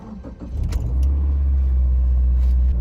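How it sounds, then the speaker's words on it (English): A car engine cranks briefly after a few faint clicks and catches into a loud, steady low idle rumble that holds to the end, close by and without talk. "Let's turn on the car."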